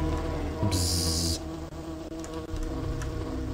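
Insect buzzing from a fly in the video game Dungeon Keeper, a steady drone over dense low game ambience, with a sharp bright burst in the middle of the short stretch.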